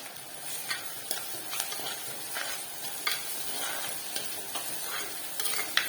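Onions sauté for chicken curry, giving a soft, steady sizzle under repeated scraping and ticking strokes of a spoon against the pan, close and fairly quiet, with no talking.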